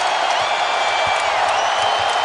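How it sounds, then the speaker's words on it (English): A packed basketball arena crowd roars and cheers during a Celtics–Wizards playoff Game 5, a dense, steady wash of loud, close crowd noise that fills the whole stretch without a break. "The crowd is loud."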